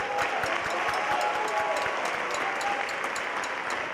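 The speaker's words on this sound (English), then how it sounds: "one more round of applause" Sustained audience applause from a school winter concert crowd for student soloists, a dense even wash of clapping lasting the whole stretch, fairly loud and steady with no talk over it.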